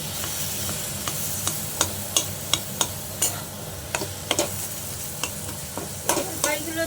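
Olives for a chutney get stirred into a hot pan of spices, a continuous sizzle broken by sharp, regular spoon scrapes and knocks against the pan, close and alone.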